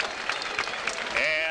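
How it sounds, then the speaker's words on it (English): A boxing crowd at a 1997 pro-boxing event at Cedar Beach Park applauds and cheers in a dense wash, with a commentator talking over it. "the crowd shows its appreciation"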